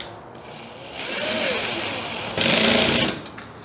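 Screws being driven into the nut holes of a Semp Toshiba LC4046FDA LCD television under repair, a continuous mechanical whirring that swells louder and buzzier in the later part before easing off.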